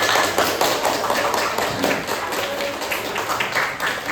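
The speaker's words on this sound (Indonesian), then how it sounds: "Tepuk tangan." A dense, continuous burst of applause from a room full of people fills the whole stretch at even loudness, with many overlapping hand claps, cheering groups of students in a class activity.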